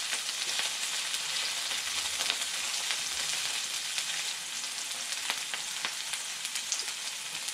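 Onion sautés in a pan with a steady, bright sizzle and crackle, close and continuous, with a few small pops and no voices.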